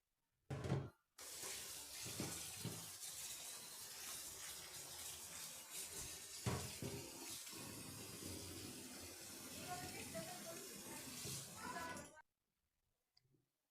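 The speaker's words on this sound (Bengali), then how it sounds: "দেখুন এভাবে আমি জল থেকে আবার ভালোভাবে এগুলোকে ধুয়ে ধুয়ে নিচ্ছি, ধুয়ে ছেঁকে নিচ্ছি।" Water runs steadily from a kitchen tap over chopped Malabar spinach leaves being washed and drained, a continuous splashing gush with small clinks, starting after a brief burst and cutting off near the end.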